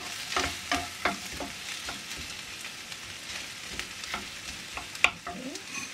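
Ginger frying in a pan for chicken curry, a steady close sizzle with occasional scraping strokes and a couple of sharper clinks, no voices.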